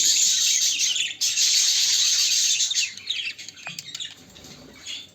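Pet birds chirp and tweet steadily in a breeding nest, a dense bright chatter of several birds close by that thins out toward the end.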